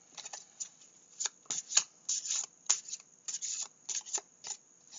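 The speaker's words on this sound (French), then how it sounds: "C'est important de mélanger les cartes." Oracle cards being shuffled by hand, a run of soft papery riffles and slides in quick irregular bursts, close and fairly quiet with no voices.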